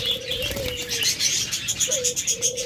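A pair of red-eyed albino pet birds call nearby, with soft cooing tones and scattered chirps over a busy background of other birds.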